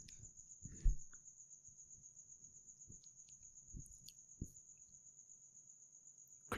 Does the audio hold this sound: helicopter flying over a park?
no